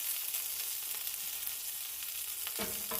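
Birria queso tacos frying in a pan, a constant bright sizzle with spattering oil, and a brief scrape or stir near the end.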